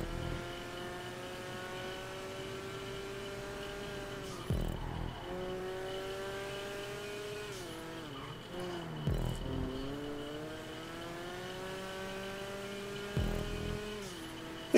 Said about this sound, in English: I mean, the engine sounds nice.